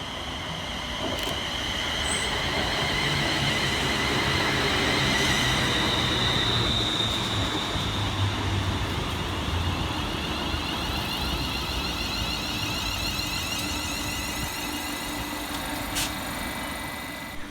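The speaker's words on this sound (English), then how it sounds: "Arriving next into the station will be 380-106, working the 1108 Scotrail service from Glasgow Central through to Largs." A ScotRail Class 380 electric train arrives at Lochwinnoch station on the Ayrshire Coast Line, a steady loud rumble of wheels on rail with a high whine and brake squeal building and holding throughout, with no voices.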